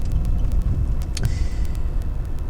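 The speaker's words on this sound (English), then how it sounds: "this car, the XJ8 that I'm in right now" Jaguar XJ8 engine and road noise from inside the moving car, a steady low hum with faint ticking clicks and one brief sharp rattle, no speech.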